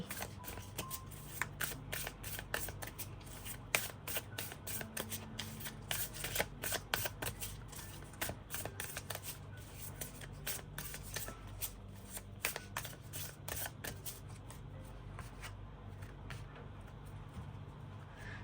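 A deck of Thai fortune-telling cards is shuffled by hand again and again, giving soft, continuous riffling and flicking close by, steady and quiet throughout, with no talking.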